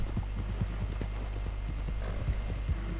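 A horse walks in Red Dead Redemption 2 with a soft, steady clip-clop of hooves over a low constant hum. The hoofbeats are quiet and evenly paced, and no one speaks.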